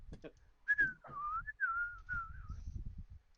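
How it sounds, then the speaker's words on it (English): Someone whistling a short Irish tune, a clear gliding melodic line of a few notes, close and fairly quiet, with soft murmuring and bumps from others in the background. "TFW, I can actually whistle."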